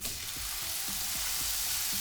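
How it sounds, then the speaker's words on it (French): A beef burger patty fries in olive oil in a pan, giving a loud, steady, close sizzle that hisses without a break, with faint crackles and pops underneath. "on va faire cuire le steak."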